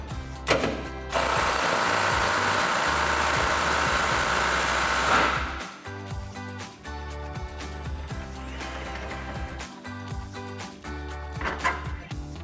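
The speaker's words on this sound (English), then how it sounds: "for this top bolt, we're only gonna need the 16mm socket and impact" An impact wrench with a 16mm socket works on the top shock bolt of an F-150 during a rear shock install. It gives a loud, sustained rattling hammer for several seconds, then a running motor hum with further short bursts.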